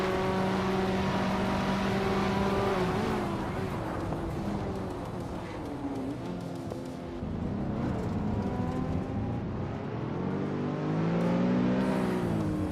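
A 2011 Infiniti G37 Coupe races in a video game, its engine droning and rising through gear changes in a steady, loud tone, with pitch sweeps as it accelerates and other cars mixed in.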